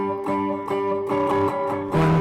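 An electric guitar plays a riff: a short run of bright, sustained picked notes with a slightly gritty tone, close and loud, changing pitch every half second or so.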